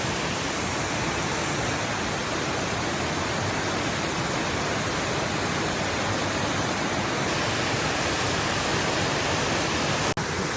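A waterfall near a house roars loud and continuous on a rainy day, a dense, unbroken rush of falling water with no other sounds standing out.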